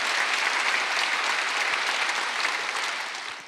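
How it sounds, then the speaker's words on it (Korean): A congregation at a Wednesday church service claps together, a dense, even ripple of applause that fades slightly toward the end. "박수 치세요."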